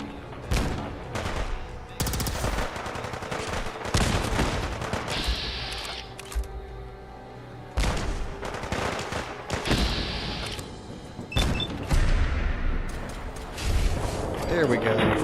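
Rapid bursts of gunfire from a legendary gunner in Fallout 4, loud and repeated in volleys with brief gaps, mixed with other battle noise.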